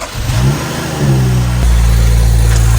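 Turbocharged 2015 BMW 335i with a VRSF catless downpipe and deleted muffler, the engine blipping up into a loud raspy rev and then settling into a deep, steady, droning exhaust note close by.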